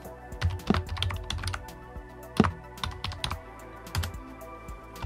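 A new password is typed on a computer keyboard while setting up DietPi Linux on a Raspberry Pi: a close, quick, irregular run of key clicks and taps, with no speech.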